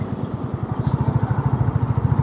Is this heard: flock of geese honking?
no